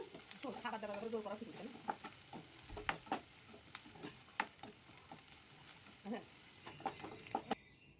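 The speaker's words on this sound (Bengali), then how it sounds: "পেঁয়াজটাকেও এখানে আমি হালকা বাদামি করে ভেজে নেব" Onions fry in a pan over a high gas flame with a soft, continuous sizzle broken by clicks and scrapes of stirring, while a voice speaks briefly at the start.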